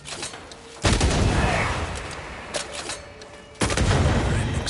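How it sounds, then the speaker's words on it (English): Booming gunfire from a corpse enemy in the video game Banishers: Ghosts of New Eden, two loud broadband blasts roughly three seconds apart, each trailing off into a rumbling tail over a busy ambient background. "That corpse is gonna shoot."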